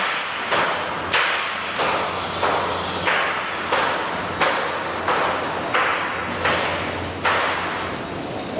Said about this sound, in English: They are welding and banging.